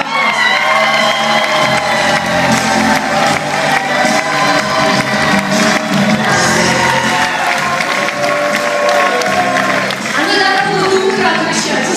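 An audience at an anniversary gathering claps and cheers loudly and steadily for the whole stretch, with scattered shouts and voices mixed into the applause.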